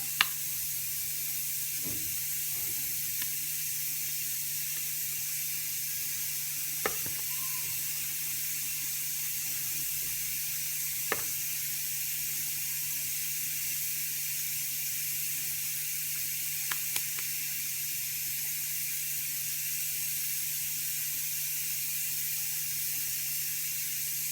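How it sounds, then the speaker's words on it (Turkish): Lentil soup in a pressure cooker gives off a steady loud steam hiss throughout, with a few faint clicks and small knocks scattered above the continuous rushing. "Çorbam kaynamaya başladı arkadaşlar. Düdükleri daha güzel oluyor mercimek çorbası."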